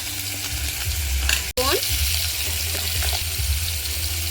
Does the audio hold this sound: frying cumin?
yes